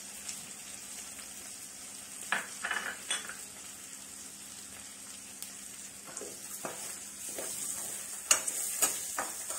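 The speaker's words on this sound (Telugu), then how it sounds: "లో ఫ్లేమ్లోనే వేపాలండి, బాగా హైలో పెడితే మాడిపోతాయి కదండి." Coriander and cumin seeds dry-roasting in a pan over a low flame for a drumstick leaves chutney: a soft, steady sizzle broken by scattered spoon-stirring clicks and scrapes, fairly quiet and close, with no talking.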